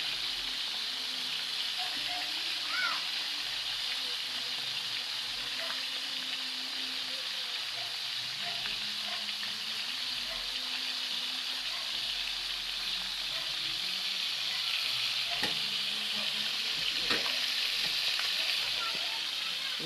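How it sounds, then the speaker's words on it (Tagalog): Food fries in a pan with a steady, close hiss and crackle of sizzling oil that runs unbroken throughout, with occasional small pops and a faint voice now and then. "Tumitirasik."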